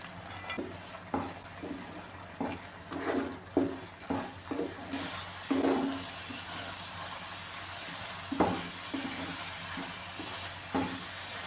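Carrot halwa being stirred in a pan with ghee, cashews and raisins added, giving a series of soft scraping strokes over a low steady sizzle, close and moderately quiet with no talking.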